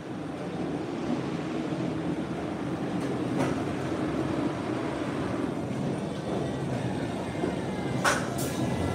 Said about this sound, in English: Oh, that train broke down.